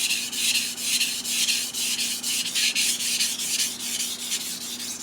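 A steel knife blade being sharpened on a soft Norton 1k/8k waterstone, with steady, rhythmic back-and-forth scraping strokes that are loud and close, repeating evenly without pause.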